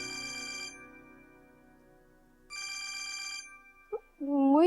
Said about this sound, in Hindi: मोहित का फोन।